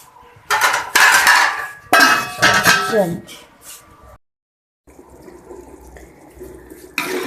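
Half a glass of water poured into a pan of frying fish in ginger sauce, giving a loud burst of hissing sizzle and splashing, a second surge, then quieter bubbling simmer as the pan settles.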